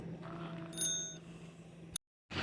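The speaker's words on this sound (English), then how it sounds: "You ring the bell?" A small bell rings in a bright, brief ding and trails off faintly over a soft background hum at a lakeside camping trip, followed by a short moment of silence.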